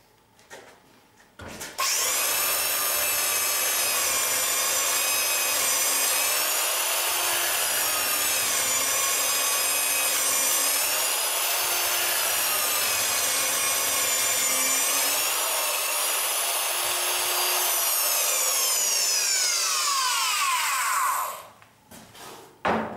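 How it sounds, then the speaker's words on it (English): A power drill runs continuously for about twenty seconds with a loud, steady whine, speed wavering slightly, then winds down and stops. "this power drill is actually running just fine, as I will now demonstrate."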